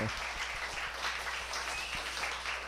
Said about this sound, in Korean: 우리 먼저 감사의 박수를 하겠습니다